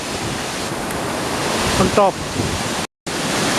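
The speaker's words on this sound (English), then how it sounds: "This is the waterfall." Triberg waterfall in the Black Forest, Germany, gives a loud, steady roaring rush of falling water close by, with a short spoken phrase over it and a brief dropout near the end.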